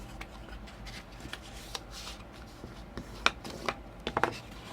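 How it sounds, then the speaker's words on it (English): Paper pieces for a mini album being folded and burnished by hand, soft close rustling and rubbing strokes with a few crisp creasing taps, quiet overall. "you're just going to fold and burnish"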